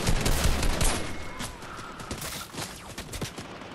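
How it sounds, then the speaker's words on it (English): Rapid bursts of gunfire in the battle royale game Fortnite, loud and dense at first, then scattered sharp shots continuing for several seconds. "Yeah, I'm getting shot at."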